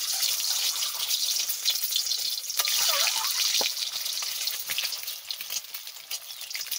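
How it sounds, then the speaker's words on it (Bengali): Eggs fry in fully heated oil in a kadai wok, giving a dense, steady sizzle with scattered pops and crackles close by. "তেল কড়াই পুরো গরম হয়ে গেছে, আমি ডিম দিয়ে দিচ্ছি"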